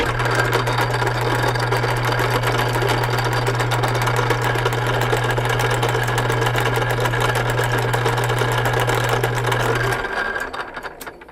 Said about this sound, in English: And I'm going to turn the lathe on.